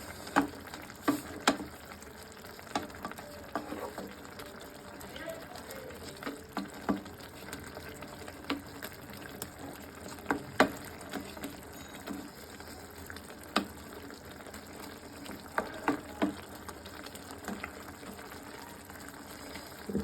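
Radish and small mourala fish curry simmers in a pan with a steady low bubbling hiss, broken by scattered soft pops and brief crackles throughout.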